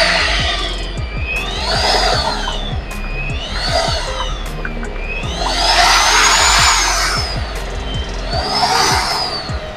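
A powered mixer stirring chemicals for flexible polyurethane foam, a loud continuous whirring drone that rises and falls in speed in repeating waves, with rapid rhythmic ticking underneath.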